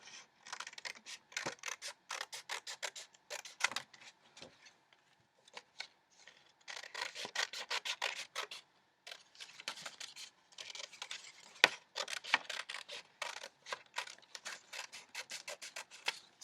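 Paper ears being cut out with scissors, repeated quick snipping and rustling of paper in close bursts with short pauses between.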